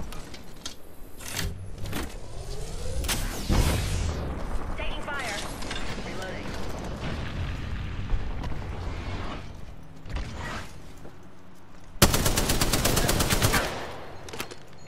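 Rapid automatic gunfire in an Apex Legends Arena match, loud bursts with mechanical clatter running through most of the stretch and a dense volley near the end, over game sound effects.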